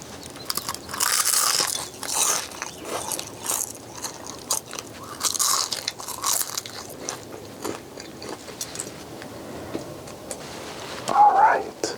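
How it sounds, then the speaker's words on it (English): Maryland soft shell crabs are eaten close to the microphone for an ASMR mukbang, with repeated crunchy bites and wet chewing between quiet moments and a faint whisper. "I'm going to be quiet and just eat"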